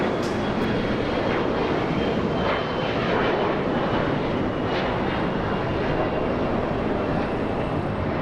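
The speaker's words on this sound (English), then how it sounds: "I think we have another E175 getting a move on. Flying to San Antonio, Texas." An Embraer E175 jet climbs out of Los Angeles International Airport toward San Antonio, giving off a steady mid-distance engine roar at an even level throughout, with no voices.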